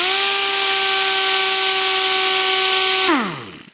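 A Cornwell STC-C320 half-inch-drive air impact wrench runs free at a loud, steady high-pitched whine with hissing air for about three seconds, then winds down quickly as the air is cut.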